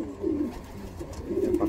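A racing pigeon gives a couple of low, soft coos, two short murmuring phrases close by over a quiet background.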